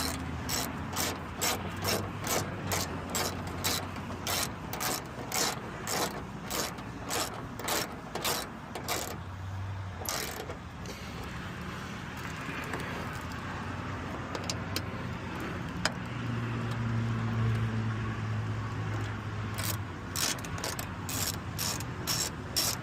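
Ratchet with an extender driving screws into a 2015 Chevy 2500 headlight assembly, rapid dry clicking in bursts with short pauses between them, close and fairly quiet.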